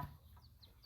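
Chickens clucking softly at a village poultry pen, a few short clucks and chirps at a distance, faint and brief.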